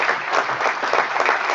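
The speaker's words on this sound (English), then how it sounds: "Please clap for the participants" An audience claps for award participants at a national science and engineering conference, a steady dense burst of applause filling the room with no voices over it.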